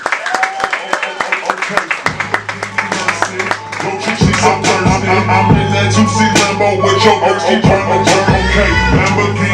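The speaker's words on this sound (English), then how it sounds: "clapping right now" An audience at Zanies comedy club in Chicago claps, sharp individual hand claps at first that build into sustained applause, with cheering voices over a low background hum.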